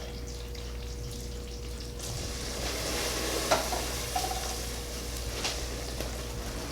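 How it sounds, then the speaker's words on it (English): Soft, steady sizzling of caramel with vanilla stirred in, occasional stirring scrapes and small clicks, fairly quiet and close, with no talking. "you can kind of hear it sizzle as we're stirring"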